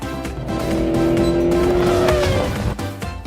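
A race car effect plays for a toy figure transforming into a green race car: a sustained engine whine with a tire-squeal tone, loud and steady, ending with clicks and plastic handling noises.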